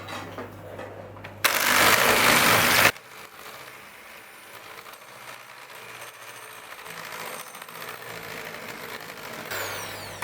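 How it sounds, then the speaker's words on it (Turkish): An electric mixer whisks three eggs with a glass of granulated sugar. A loud, close whirring burst comes first, then a lower, steady buzzing hum continues. "bir su bardağı toz şekerle 3 adet yumurtayı açık renk alana kadar ortalama 2 dakika boyunca çırpıyorum"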